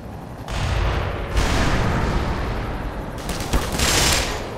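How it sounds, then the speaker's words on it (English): Gunfire in the game Black Mesa: dense, loud bursts of rapid automatic shots in two stretches, a long rattling volley followed by another harsh burst after a brief lull, with no voices. "Why are you shooting me?"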